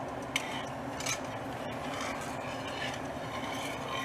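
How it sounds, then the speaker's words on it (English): Whisking banana pudding in a pot gives a continuous, close scraping and swishing with a few light clinks against the metal, and no speech is heard. "So I'm gonna start whisking."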